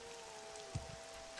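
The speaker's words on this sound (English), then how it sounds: "So we arrive here in Balmora. It's raining." Rain falls steadily over the town of Balmora in the game Morrowind, a faint even hiss with a low ambient hum and one brief soft thump.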